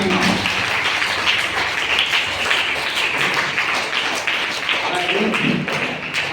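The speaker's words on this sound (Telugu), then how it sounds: "give big claps" An audience at a dance school event applauds the guests, a dense steady clapping that fills the whole stretch at close range, with a voice on a microphone speaking over it now and then.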